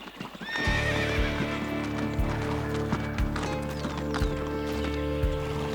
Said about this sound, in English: horses range from their powerful 45 kilometer per hour gallop to the 20 kilometer per hour canter